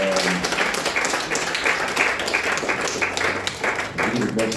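A church congregation claps and applauds during a worship service, a dense sustained wash of hand claps close and loud throughout, with voices mixed in.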